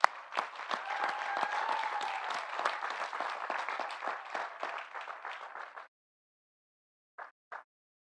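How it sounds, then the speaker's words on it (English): Graduates and guests at the Boise State 2021 spring commencement give a steady round of applause for nearly six seconds, then it stops abruptly, followed by two brief isolated claps. "graduates, please give them a little round of applause"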